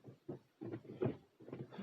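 A Ford Focus manual gear shifter on a repaired shift tower clunks through its gears in a series of soft, close mechanical knocks and thuds, spaced a fraction of a second apart.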